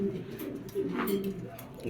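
A racing pigeon coos in low, throaty rolls close by, with a person talking over it.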